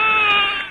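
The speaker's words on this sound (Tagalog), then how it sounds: "Kaya naman pala hindi niya marinig yung pag-iyak ng bata." A hungry baby crying loudly and close by in one brief, sustained, high-pitched wail, with no talk.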